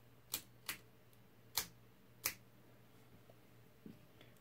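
Four sharp mechanical clacks of keys being pressed on a Facit 1122 mechanical desktop calculator, spaced irregularly, followed by a couple of faint softer clicks in a quiet room.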